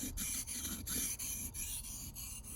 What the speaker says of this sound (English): Now I'm moving over to sharpening the blade up.